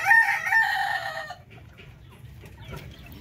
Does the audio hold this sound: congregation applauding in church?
no